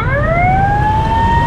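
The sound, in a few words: Vietnamese ambulance siren passing as traffic gives way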